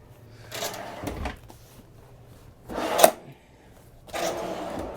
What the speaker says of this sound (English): There's two drawers underneath these.